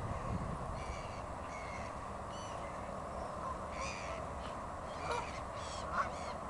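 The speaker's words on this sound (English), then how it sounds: "Loads and loads of birds." Many birds call and caw in scattered bursts over a steady outdoor wash of noise, some near and some farther off, with no talking.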